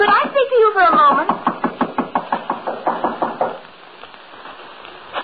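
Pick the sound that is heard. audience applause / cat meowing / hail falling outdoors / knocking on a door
knocking on a door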